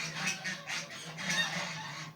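Faint cackling calls of geese near a vegetable garden, a few short bursts heard from some distance in a quiet setting.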